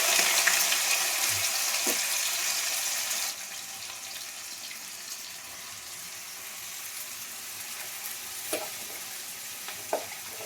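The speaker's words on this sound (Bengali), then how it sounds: "ওদিকে তো তেল দিয়ে দিয়েছি এবার কি করবো পেঁয়াজগুলো দিয়ে দেবো" Washed onions tipped into hot oil for a chicken kosha curry, a loud hiss at first that settles into a steady, softer sizzle, with a few faint clinks near the end.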